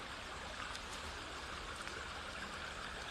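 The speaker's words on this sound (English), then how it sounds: "Just checking out the brook to see the water situation here." A small backyard brook in Connecticut, running low in dry weather, gives a steady, continuous rush and trickle of flowing water, even and unbroken throughout, heard alone without voices.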